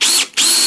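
A Bosch or Einhell cordless drill-driver runs flat out at maximum speed, giving a loud, close whine that drops out briefly in the middle and then spins up again.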